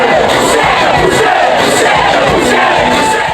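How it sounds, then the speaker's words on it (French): A huge euphoric crowd roars and cheers continuously at a festival of cultures concert in Gabon, a loud, dense wall of voices with shouts rising throughout. "Devant une immense foule euphorique"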